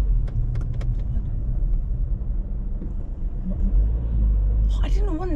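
A car drives steadily during a mock driving test, with a low continuous engine and road rumble under a brief voice near the end.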